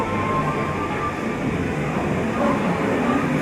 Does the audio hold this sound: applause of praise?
no